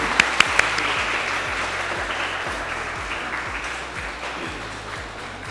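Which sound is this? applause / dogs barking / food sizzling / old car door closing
applause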